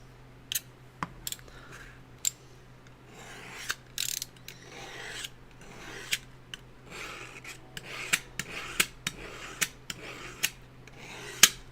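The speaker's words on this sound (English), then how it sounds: "Let's sharpen up the knife really quick." A knife scrapes repeatedly through a handheld sharpener, with short sharp rasping strokes at an uneven rhythm, close up and fairly quiet.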